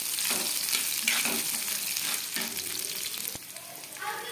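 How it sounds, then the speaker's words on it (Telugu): Garlic and ginger sizzle steadily in a hot pan of oil for coriander tomato chutney, a continuous close frying hiss with a few stirring scrapes, briefly louder near the end. "యాడ్ చేసుకొని వీటిని కూడా బాగా ఫ్రై చేసుకోవాలి"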